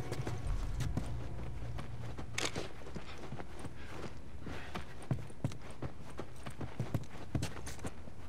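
Horse hooves clip-clop at a steady walking pace in the video game The Last of Us Remastered, a run of soft, regular hoof strikes over several seconds, mid-distance and fairly quiet, with no talking.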